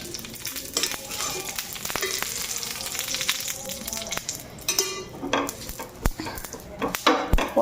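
Oil sizzling steadily in a pan as a potato and onion filling fries, with a utensil scraping and stirring in irregular clatters that grow louder toward the end.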